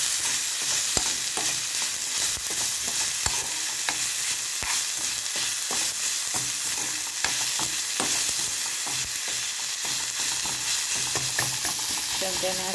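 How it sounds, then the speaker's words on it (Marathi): Tomatoes crushed with a spoon in a pan over a low flame for a dried shrimp curry, a steady close sizzle broken by frequent soft scraping and tapping strokes, with no voices. "चमच्याने असं ठेचून घेतो टोमॅटो, म्हणजे अगदी बारीक होतील ते"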